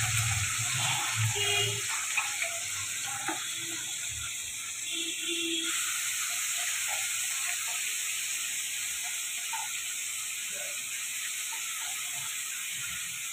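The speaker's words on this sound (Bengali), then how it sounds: "এই আলুটা নুন মাখানো হয়ে গেল, এবার আমি দিচ্ছি। তেল গরম হয়ে গেছে।" Salted potato pieces frying in hot oil give a steady, close hiss and crackle that runs the whole time, with scattered small pops and clinks along the way.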